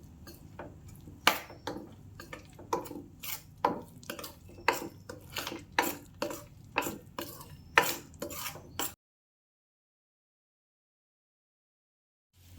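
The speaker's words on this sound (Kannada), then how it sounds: "ಇದನ್ನು ಸಣ್ಣ ಉರಿಯಲ್ಲಿ ಚೆನ್ನಾಗಿ ಹುರ್ಕೊಳ್ಬೇಕು." Wheat flour roasts in ghee in a pan for Navratri laddu, a spoon stirring and scraping the pan in steady, close clinking strokes for about nine seconds, then silence.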